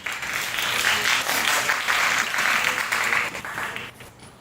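Audience applause at a high school students' inquiry conference greets a student team from Kaohsiung Girls Senior High School, a steady wash of clapping throughout that fades slightly near the end.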